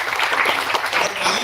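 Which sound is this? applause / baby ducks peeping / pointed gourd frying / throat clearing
applause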